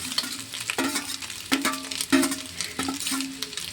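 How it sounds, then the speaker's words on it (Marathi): Soybean mince frying in oil in a pan, a close steady sizzle broken by stirring scrapes and light clanks of a utensil against the pan. "त्याला आपण याला तळून घेऊ."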